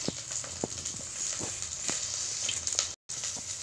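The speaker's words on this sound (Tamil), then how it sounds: "வெங்காயம் வதங்குது" Sliced onions sautéing in hot oil for a fish curry give a steady, soft sizzle with a few small pops and clicks, heard close and alone.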